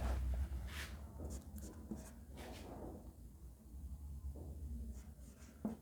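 Marker or chalk writing on a board during a complex-number maths lesson, a faint scratchy scraping in short strokes over a low background hum, with no talking.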